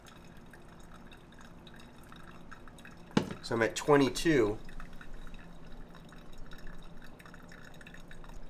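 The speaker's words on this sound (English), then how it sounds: "Try to get about 20 ounces of water poured." Water poured from a kettle into a pour-over coffee brewer splashes and trickles for about a second and a half over low room hiss, with someone speaking briefly.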